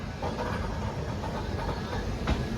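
A train passes with a steady rumbling rush and faint rail clatter, fairly close, with a short sharp knock near the end.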